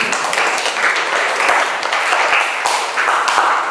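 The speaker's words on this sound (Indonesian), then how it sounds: "Tepuk tangan untuk kita semua." Applause from a class of trainee teachers in an automotive engineering lesson: dense, steady clapping from many hands runs evenly through the whole stretch at a fairly loud, close level.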